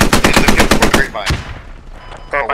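Rapid automatic fire rattles out in a tight burst of about ten close, loud shots in the video game Squad. A single sharper report follows, then faint voice-like sounds at the end.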